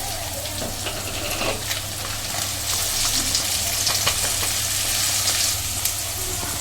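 Chopped onions and crushed green chilies fry steadily in a pan for whole moong dal, a close, continuous sizzle with occasional light stirring clicks and no voices.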